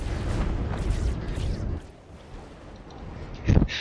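Artillery explosions in the real-time strategy game Planetary Annihilation, a continuous rumbling barrage of deep booms that eases off midway, then a fresh loud blast near the end.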